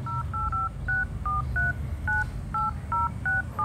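A series of telephone keypad tones beeps in quick succession, about a dozen short dual-tone presses with brief gaps, clear and close.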